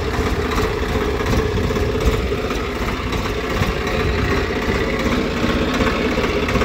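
A Swaraj 855 tractor engine idles steadily nearby, a continuous low diesel rumble with a constant vibrating texture and no talk over it.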